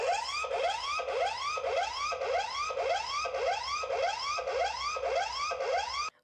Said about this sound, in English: I can trigger the siren to alert him right away